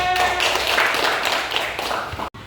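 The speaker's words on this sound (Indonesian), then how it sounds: "Silakan duduk kembali, tepuk tangan." Children clapping in a classroom during a coding lesson, a brisk scattered burst of small-group clapping close by that runs for about two seconds before cutting off abruptly.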